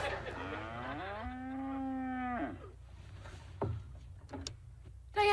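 A cow moos in a long, drawn-out call of steady pitch, loud and close, followed by a few scattered knocks and thumps.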